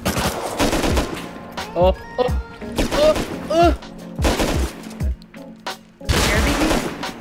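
Bursts of automatic gunfire ring out while scientists are shot on a large oil rig in the Rust video game, loud rattling volleys broken by short pauses, with brief voices speaking over the shooting.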